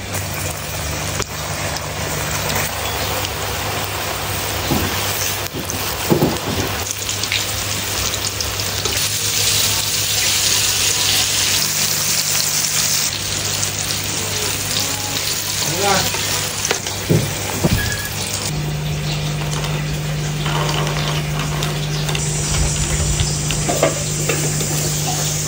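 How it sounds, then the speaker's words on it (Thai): Battered popcorn chicken frying in hot oil, a steady, loud crackling sizzle that carries through the whole stretch, with occasional stirring clatter and brief voices in the background. "เอาแป้งเสร็จแล้วเราก็มาจุ่มในน้ำเปล่าจุ่มน้ำเสร็จก็มาคลุกแป้งอีกรอบหนึ่งครับ ทอดกันได้เลย"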